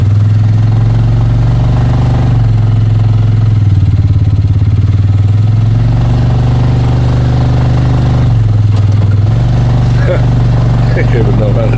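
A vehicle engine runs steadily after being put in gear on a morning ride toward Bear Basin, a loud low drone with a couple of pitch shifts as it idles and pulls, close and constant throughout.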